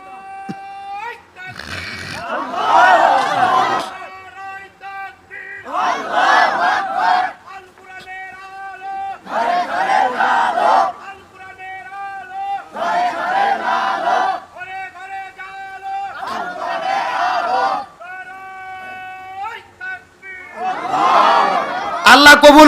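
A crowd at a religious gathering shouting the takbir slogan, with about six alternating rounds of a single leader calling out and the mass of voices roaring back in unison, each burst loud and separated by short pauses.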